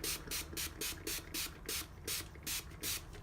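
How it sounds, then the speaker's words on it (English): Rapid trigger sprays of pad cleaner hiss out onto a polishing pad in a steady rhythm, about a dozen short bursts close by. "So just spray that down"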